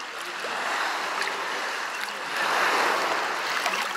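Sea waves wash steadily onto a beach at Kemer in August, a continuous broadband surf hiss that swells slightly midway, heard alone without talk.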